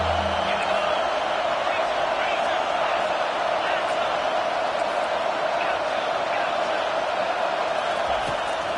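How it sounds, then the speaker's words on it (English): Home crowd roaring in the Madden football video game, a steady dense wall of crowd noise that stays loud and constant throughout, with faint commentary-like voices underneath. "how nice is it to have the home crowd going absolutely bananas?"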